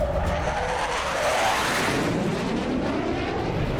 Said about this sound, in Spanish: Bienvenida, nueva flota de aviones